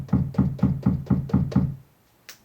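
Kick drum sample played on a Native Instruments Maschine through an LP2 low-pass filter, heard as six evenly spaced, heavy, muffled thumps in a quick row, then a brief pause and a short click.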